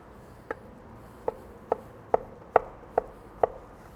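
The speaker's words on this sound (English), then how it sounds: "we'll chop it and it'll kind of shred as we mix it" A knife chops leftover picanha beef on a cutting board in seven distinct, sharp thuds spaced roughly half a second apart and growing slightly louder, alone in a quiet room.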